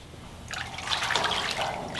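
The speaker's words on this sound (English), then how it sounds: "I'm going to go turn the water back on, and we're going to bring this water level up" Cold irrigation water running into a plasma cutting table's water tray, a close splashing trickle that starts about halfway in and swells into a steady pour.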